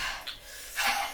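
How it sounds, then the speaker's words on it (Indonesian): Heavy, breathy panting from one person after eating fiery spicy chicken feet, close and loud, with two strong puffs of breath over a steady hiss. "Ngos-ngosan"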